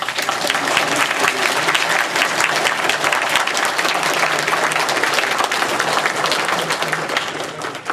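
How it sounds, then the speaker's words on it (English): Sustained, dense applause from a convention audience at an anime panel, loud and steady throughout without a break, with a faint crowd murmur beneath it. "let's give them a round of applause"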